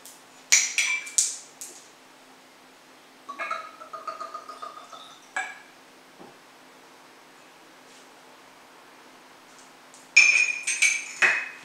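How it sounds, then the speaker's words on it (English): Glass stopper on a bottle of 10-year-old Shelter Point whisky, bright glassy clinks and chinks in short clusters separated by quiet pauses, close and crisp with a ringing tone. "Managed to get our glass stoppers back for this one"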